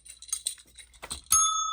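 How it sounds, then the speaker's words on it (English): After a few soft taps and clicks, a small bell used to mark a savings-challenge step is struck once, giving a bright, clear ring that sustains and slowly fades to the end. "I'm going to get my bell."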